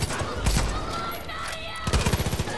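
Gunfire in the video game Far Cry 5, a burst of shots early on and a rapid automatic volley near the end over a steady battle din.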